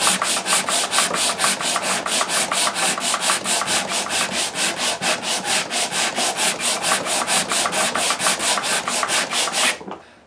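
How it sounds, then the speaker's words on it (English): Rapid, rhythmic back-and-forth strokes of a sanding block rasp on the wooden neck of a Martin D-16 guitar, dozens of even scrapes close up, stopping abruptly at the end. "I do an 8 count of sanding strokes"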